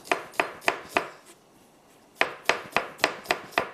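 Knife slicing onions for biryani on a cutting board: four crisp, evenly spaced chops, a short pause, then six more in steady rhythm, close and clear with no talking.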